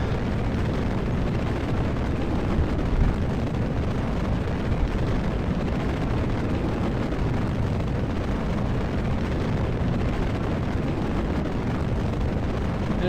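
Solid rocket motors firing in the video game Kerbal Space Program, a constant dense roaring rumble held at even loudness throughout, with no voices.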